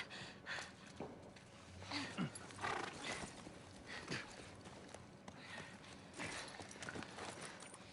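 Horse hooves clip-clop in The Last of Us Part I, a quiet run of uneven hoofbeats with faint ambient game noise around them.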